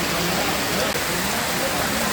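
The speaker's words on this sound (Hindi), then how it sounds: "और बारिश बहुत तेज़ी से गिर रही है" Heavy rain pours down steadily in Narmadapuram during the Ganesh festival, a dense, continuous hiss that fills the whole stretch without a break.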